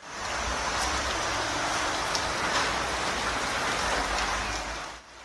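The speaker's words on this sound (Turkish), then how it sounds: "İstanbul iki gündür sağanak yağışın etkisi altında." Heavy downpour pours steadily in Istanbul's Fatih district during flooding, a dense, loud, continuous hiss of rain with no pauses and no voices.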